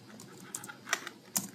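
Code being typed on a computer keyboard, a few quiet, close keystrokes with three sharper clicks standing out against a faint background.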